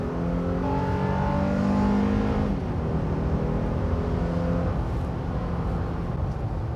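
A Honda Pilot SUV accelerates hard up a highway interchange ramp, its engine droning loudly and steadily with rising harmonic tones that shift as it changes gear, accompanied by constant road and wind noise.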